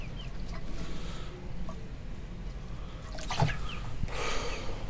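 A flock of chickens on a rooftop clucks faintly in scattered, short calls over a soft, steady background hiss.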